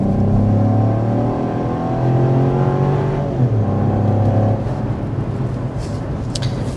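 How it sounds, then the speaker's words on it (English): A 2024 Chevy Trax engine under hard acceleration, revving up steadily with a rising drone, heard continuously and fairly loud with no talking. "it doesn't sound too strained, even under hard acceleration"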